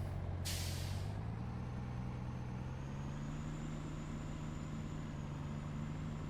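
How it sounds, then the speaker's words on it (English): Truck air brakes in the video game Farming Simulator 19, one short hissing burst of released air over a steady low engine rumble that continues throughout. "Gotta remember the brakes on this truck are, they're probably a little better than the Buster's trucks"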